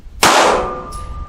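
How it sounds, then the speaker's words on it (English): A single loud, close gunshot from a Kimber KDS9C pistol at a shooting range cracks sharply, followed by a metallic ringing tail that decays over about a second. "Kimber KDS9C. First shots."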